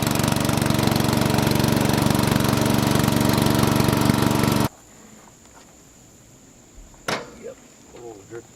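A 110 hp 4x4 vintage racing lawn mower engine runs loud and steady for several seconds, then cuts off abruptly, leaving quiet background and a few faint knocks and clicks.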